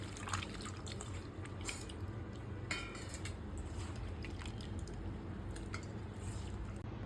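Prawns are rinsed by hand in water before frying, giving faint, close, continuous sloshing, squishing and dripping sounds over a low background hum.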